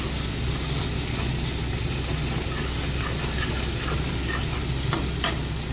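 Dry fish and onion fry in a pan under a dense, continuous sizzle with a low rumbling background, steady and loud throughout, a sharp click near the end, no voices.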